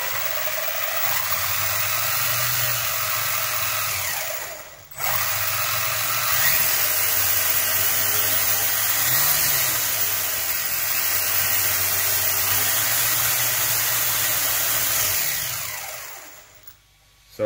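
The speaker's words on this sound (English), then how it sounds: "that's just the gears actually running, the diffs inside the housing" Gears and differentials of an RC car whirring inside their housing at about half throttle, a steady mechanical whine with a shifting pitch that runs for most of the stretch, briefly dropping out near the middle.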